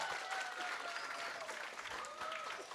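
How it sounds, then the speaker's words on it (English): Applause from a graduation-style audience at a fifth grade moving-up ceremony, a steady wash of clapping at moderate distance, faint and continuous for a few seconds with a voice over it. "Can we give everyone that just came a round of applause?"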